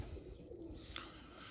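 Domestic racing pigeon cooing near a loft, soft low repeated coos over faint background rustle, no talking.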